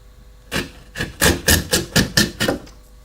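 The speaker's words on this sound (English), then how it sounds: "We can take this out across with a chisel." Chisel cutting across wood on a workbench, seven sharp, evenly spaced chopping strikes close by, each a crisp woody knock with a brief rasp, loud and unaccompanied by talk.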